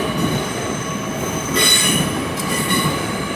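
A long-distance passenger train departs London Paddington station with a steady rumble of rolling stock and a brief high wheel squeal that swells and fades, and no voices are heard.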